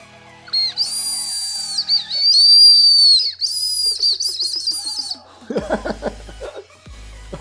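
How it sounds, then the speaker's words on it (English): A Japanese whistle candy gives several loud, high, shrill whistle blasts in close succession, followed by laughter and chuckling nearby. "Blow through the hole in the middle to create a loud whistling sound"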